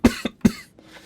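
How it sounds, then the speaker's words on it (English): Three sharp coughs from a single nearby person, the first and third strongest, followed by a quieter throat sound and some soft breathing at the end. "Pardon me for the cough."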